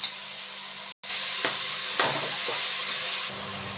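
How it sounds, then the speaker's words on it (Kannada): Vegetables and soaked peas frying in a pan for a veg pulao, a steady close sizzle and hiss with a few brief stirring scrapes and one short break. "ತರಕಾರಿ ಎಲ್ಲ ಫ್ರೈ ಆಗಿದೆ"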